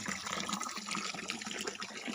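Water rushes steadily from two large supply pipes under a big rock outdoors, a continuous bright splashing gush heard up close without talk.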